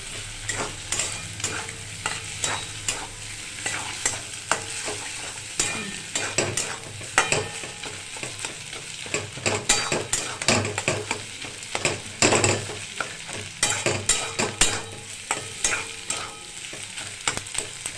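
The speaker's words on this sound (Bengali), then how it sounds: "এবার ফাটিয়ে রাখা দুখানা ডিম দিয়ে দেবো।" Two cracked eggs go into a hot pan of stir-fried onion, carrot, potato, chilli and beans for chow mein, sizzling steadily while a spatula scrapes and stirs in loud, irregular clatters throughout.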